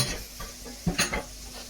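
Crackling, sizzling hiss of fish deep frying in hot oil, with a few brief bubbling bursts and light clatter nearby.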